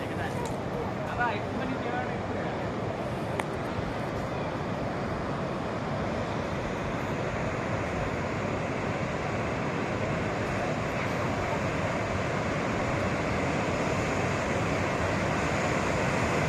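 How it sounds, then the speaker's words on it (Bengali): A tidal bore surging up the Ganges and breaking its banks makes a continuous, loud roar of rushing water, dense and unbroken, mixed with wind buffeting. "গঙ্গা নদীতে বান আসছে, পাড় ভেঙে, খুব ভয়ঙ্কর বান।"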